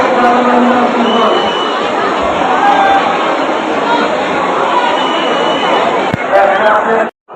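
Dense, steady crowd of devotees packed into the Banke Bihari temple in Vrindavan, a loud continuous wash of chatter and shouting voices close around, with a brief louder swell near the end.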